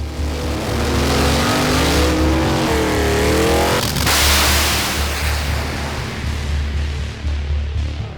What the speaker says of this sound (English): The cars are going from 0 to 270, sometimes 280 miles per hour in under 6 seconds.